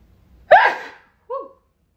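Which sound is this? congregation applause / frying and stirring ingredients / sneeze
sneeze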